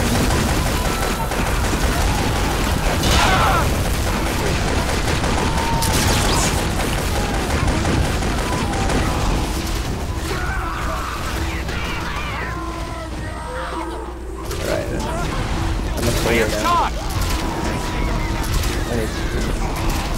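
Weapons fire from the video game Team Fortress 2 during a raid boss fight, dense continuous volleys of shots and booms layered with chaotic game effects, loud and unbroken throughout.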